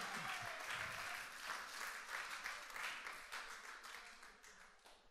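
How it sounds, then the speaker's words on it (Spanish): A church congregation claps together in a steady, fairly dense burst that fades slightly toward the end, with brief laughter and murmuring voices early on. "Denle un aplauso a Jesús"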